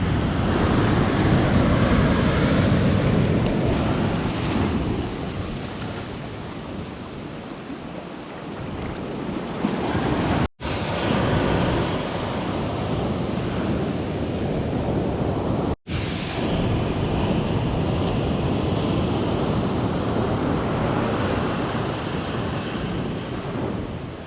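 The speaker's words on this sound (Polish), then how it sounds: "są za duże fale i nie możemy dzisiaj popływać" Large ocean waves breaking on a beach at Nusa Penida, a continuous loud roar of surf with heavy wind buffeting the microphone and two brief cuts.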